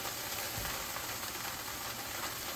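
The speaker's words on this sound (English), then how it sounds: "To this, I'm going to put 4 ounces of butter." Four ounces of butter melt in a hot pan over medium-high heat, a faint, even hiss that stays steady and quiet for the whole stretch with no talk.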